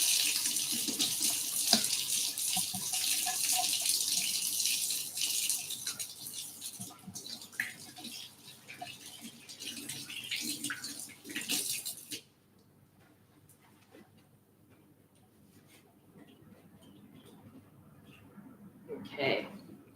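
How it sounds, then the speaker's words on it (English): Hands are washed under a running kitchen tap while cooking jalapeño cheddar scones. Steady splashing water pours for about twelve seconds, then stops, leaving faint handling noises and a short clatter. "I'm going to wash my hands"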